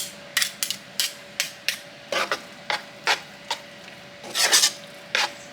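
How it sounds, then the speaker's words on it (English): A spoon scrapes repeatedly against a pot while stirring meatloaf mixture, making a series of sharp, rasping strokes in an irregular rhythm, close and fairly loud, with a steady faint hum underneath. "sorry about the scraping"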